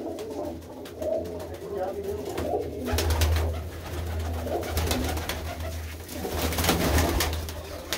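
Shah Akhi breed pigeons in a loft in Dhamot coo in low repeated rolling calls, close by, with someone talking over them.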